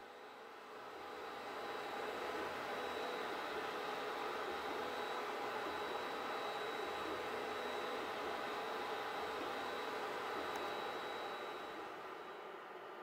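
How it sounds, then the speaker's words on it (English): A Geeetech Mizar S 3D printer runs with all its fans and motors going, giving a steady, even whir and hiss that holds at one level throughout, with a faint high whine on top. "With all fans and motors running,"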